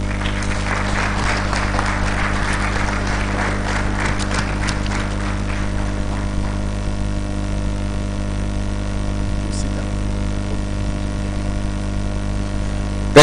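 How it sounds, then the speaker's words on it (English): An audience at a conference plenary session applauds after a presentation. The clapping is strong at first, then thins out and fades over a steady, low room hum. "Let's clap for him, please."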